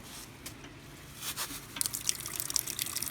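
Water runs from a tap near a trashed beach toilet area at Bournemouth, a faint, steady trickle with small drips and splashes heard from a short distance.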